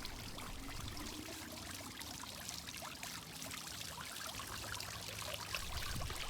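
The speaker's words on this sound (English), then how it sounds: "I love the soothing sound of running water in the garden" A backyard garden fountain on a patio, its water pouring and trickling in a steady, faint splash that runs continuously with no voices.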